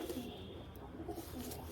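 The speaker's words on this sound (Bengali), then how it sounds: "এই হলো পায়রা।" A male domestic pigeon coos softly in a low, repeating murmur, faint and close, with no talking over it.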